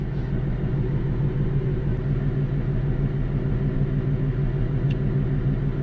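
A tuned 2020 Ford Mustang GT V8 idles close by with a steady, even low rumble and a faint lope, holding constant for several seconds with no voices.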